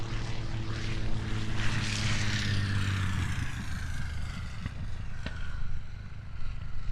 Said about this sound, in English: Big 6-cylinder popping and burbling as he has it at idle